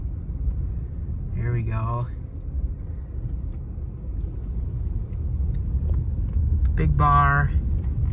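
A Subaru driving off-road with a bumper light bar fitted, a steady low engine and road rumble throughout, with someone talking briefly twice over it.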